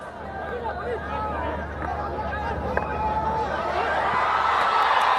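Steady crowd hubbub and cheering fill the stands at a field hockey match between India and Japan in the Hero Asia Cup in Rajgir, Bihar, with a sharp whistle-like blip near the middle and voices chattering throughout.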